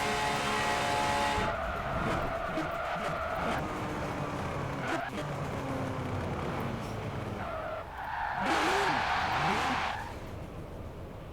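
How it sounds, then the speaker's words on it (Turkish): Cars race and drift in Forza Horizon 4, with a loud, steady engine roar, shifting revs and tire squeals, and a louder burst of skidding near the end. "Bu araçta çok çok daha hızlı yarışı bitirebilirsiniz."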